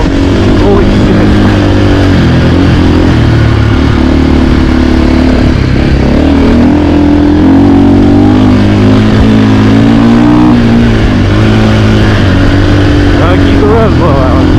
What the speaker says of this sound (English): Gotta keep the revs low, Alan.